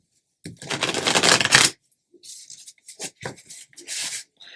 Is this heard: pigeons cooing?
no